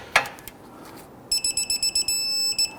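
Torque wrench on a Ford Taurus outer tie rod nut, a click followed by a rapid series of short electronic beeps signalling the set torque, close and clear.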